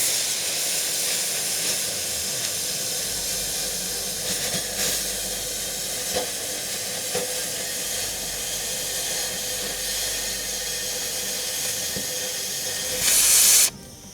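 A cutting torch melting through junk steel on a damaged trailer frame, giving a steady, loud, close hiss that runs unbroken throughout and swells into a brief louder burst near the end.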